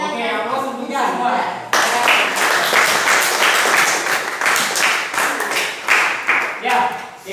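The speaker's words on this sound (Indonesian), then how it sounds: "Oke, aplaus untuk kita semua." Classroom of students applauding together: after a voice speaks, a burst of lively clapping starts abruptly and carries on for several seconds, then fades as talking resumes.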